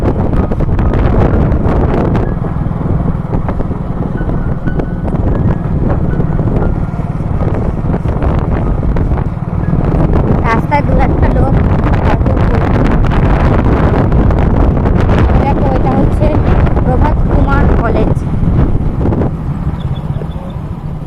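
Motorbike ride at night in summer, heavy wind noise buffeting the microphone over a low engine rumble, loud and continuous without talking.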